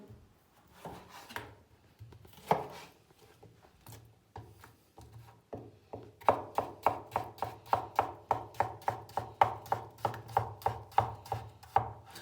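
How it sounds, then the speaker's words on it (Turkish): A knife chops salad greens steadily on a cutting board, slow and scattered at first, then a quick, even run of crisp strikes close by. "Salatayı doğrayarak başlayalım."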